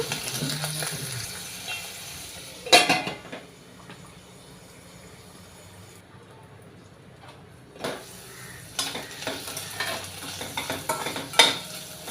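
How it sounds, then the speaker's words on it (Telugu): Ivy gourds (tindora) frying in a pan with occasional stirring, a low continuous sizzle broken by a few sharp clinks and scrapes of a utensil against the pan. "వేగుతున్నాయండి దొండకాయలు"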